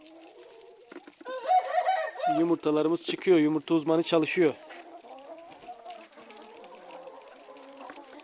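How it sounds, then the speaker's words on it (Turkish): A young rooster gives a ragged, broken crow up close while hens cluck nearby, followed by a person talking over soft clucking. "Az önce horozun ötüşünü duydunuz."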